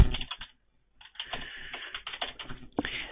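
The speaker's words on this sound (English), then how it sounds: "we're going to use our email address that we signed up with" Quick bursts of typing on a computer keyboard while an email address is entered, crisp close key clicks in two runs separated by a short pause.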